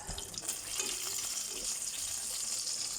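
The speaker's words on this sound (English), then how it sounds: "To that I'm going to be adding a dried chili for a bit of spice, and we'll let that fry up" Butter and a dried chili fry in a pan, giving a steady, close sizzling hiss that holds evenly for the whole stretch with no talking over it.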